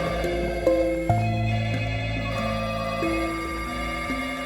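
A telephone rings in an office during a crisis, its electronic tones repeating steadily, loud and close, with no one speaking over it.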